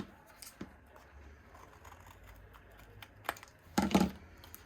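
Scissors trimming felt for an embroidery kit: quiet, scattered snips and rustles, finishing with a louder cluster of cuts near the end.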